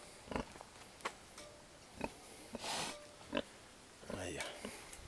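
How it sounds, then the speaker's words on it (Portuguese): Farm pig grunting and snorting up close: several short, rough grunts spaced a second or so apart, with a longer snuffling breath in between, and people speaking on the farm alongside. "Ó, porcão. Ô, porco. É uma leitona. Uma porca."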